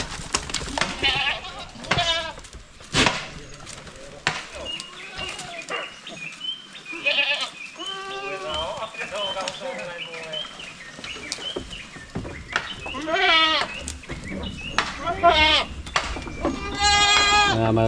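A group of large penned goats bleats noisily as fodder arrives, overlapping wavering cries from several animals near and farther away, with people talking among them.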